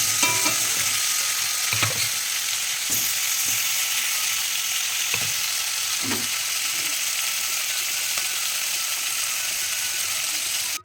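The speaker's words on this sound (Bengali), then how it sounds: "মাছগুলো একটু লাল লাল করে ভেজে নিই" Pieces of rohu fish sizzling in hot oil in a pan, a steady bright crackle with occasional louder pops and clinks of the spatula against the pan, no voices.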